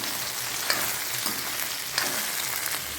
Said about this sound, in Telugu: మంచిగా ఫ్రై చేసుకోవాలి. పచ్చిమిర్చి బెండకాయలు అన్నీ ఫ్రై అయ్యే వరకు